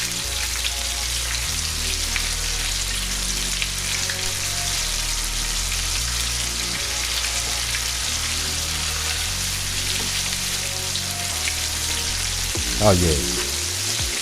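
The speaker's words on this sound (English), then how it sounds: "So let's go ahead and get this in this grease." Pickle-brined, coated chicken deep frying in hot grease gives a steady, dense sizzle and crackle that holds for the whole stretch, with a brief louder burst near the end and a short spoken exclamation over it.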